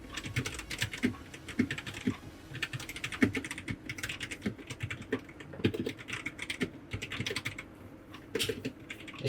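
Steady fast typing on an RK68 65% mechanical keyboard fitted with brown switches, a dense run of soft, muted key clacks at close range with brief pauses, no voices.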